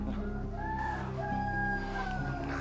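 A fighting rooster crows in a couple of drawn-out calls, heard fairly clearly above a steady low background.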